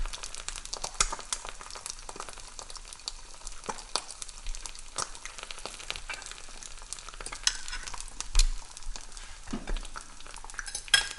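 An egg fries in a pan, a soft close sizzle with crackling pops and occasional light clinks of a utensil against the pan, no talking.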